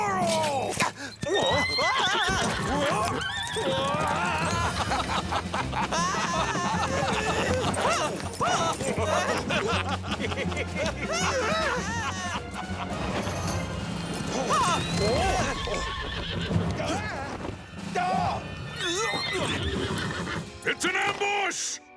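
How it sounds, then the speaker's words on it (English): Several horses neigh and whinny loudly during a sword-fighting Zorro ambush on a road with carriages, with hoof clatter, crashes and shouting voices throughout. "Unhitch the horses!"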